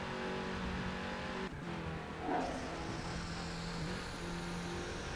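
Race car engines drone steadily through a two-lap race in a racing video game, a continuous mid-level engine hum with a brief dip and a short swell partway through, no voices over it.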